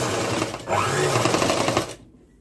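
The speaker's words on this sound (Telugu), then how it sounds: "పెద్ద కుట్టు పెట్టేసుకొని మిషన్కి ఇట్లా అటాచ్మెంట్ అయితే చేసేసేయండి" A sewing machine runs fast and steady for about two seconds, stitching lining onto a long frock with a big stitch length, then stops abruptly.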